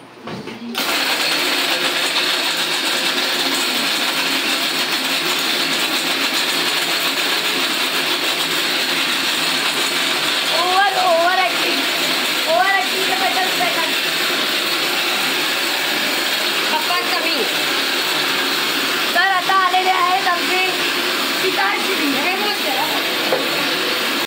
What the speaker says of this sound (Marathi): आता मी मिक्सर चालू करते